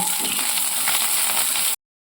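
Potatoes frying in mustard oil with panch phoron and a bay leaf in a village kitchen, a steady close hiss of sizzling oil running unbroken until it cuts off abruptly.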